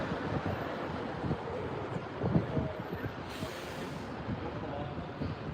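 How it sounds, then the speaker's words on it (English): Gusty wind buffets the microphone outdoors while walking in Edinburgh in the rain, a constant low rumble with occasional stronger blasts and no clear speech. "Hopefully the wind isn't annoying you, because it is getting a little bit windy now."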